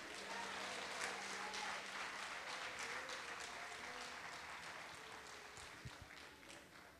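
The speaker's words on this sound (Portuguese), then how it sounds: "Quem acredita, aplauda o nome de Jesus." Church congregation clapping together during a sermon, a steady dense applause filling most of the stretch and tapering slightly toward the end, with faint background voices.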